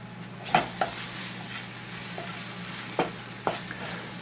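Mushrooms frying in a hot pan while a French omelette is prepared: a soft, continuous sizzle underlies several sharp clicks and scrapes of stirring utensils against the pan, spaced irregularly, with no voices.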